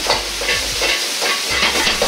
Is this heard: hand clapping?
no